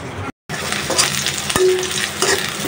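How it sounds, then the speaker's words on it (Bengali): Onion and garlic frying in oil in a pan, a steady close sizzle with stirring scrapes running throughout apart from a brief gap near the start. "পেঁয়াজ আর রসুনটা তেলের মধ্যে হালকা একটু ভেজে নিচ্ছি।"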